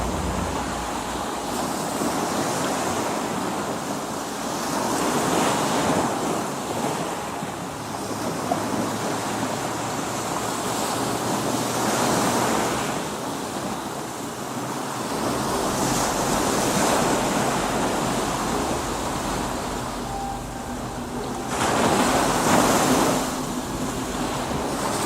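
Sea waves roll in and break along a breakwater by a lighthouse while wind blows steadily, the surf swelling and fading in broad, continuous washes with no voices.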